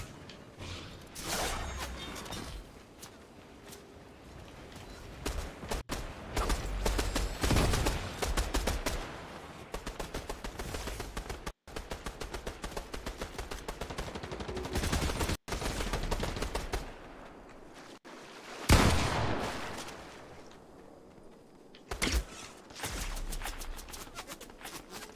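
Gunfire rings out in a series of sharp, loud bursts with short gaps between them, some volleys rapid like a fusillade, over a steady busy background.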